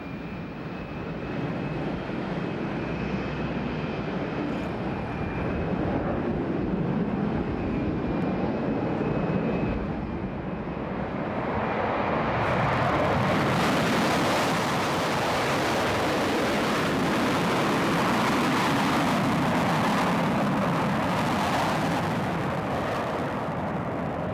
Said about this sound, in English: we couldn't and shouldn't compete with the noise of Concorde